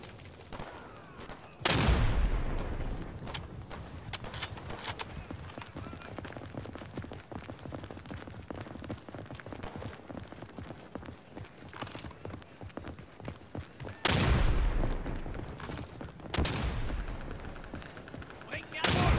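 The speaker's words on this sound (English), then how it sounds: "Oh, he grenaded me." Day of Infamy WWII shooter match: two sharp, loud grenade blasts about twelve seconds apart, with scattered rifle and gunfire crackling between them, and a voice occasionally talking over the battle noise.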